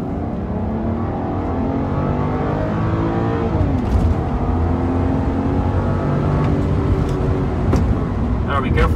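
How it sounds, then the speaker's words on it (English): BMW 328i with the N52 inline-six under full throttle, heard from inside the car as the engine note rises steadily in pitch and loudness, with a brief dip partway through, strong and close. "Let's floor it."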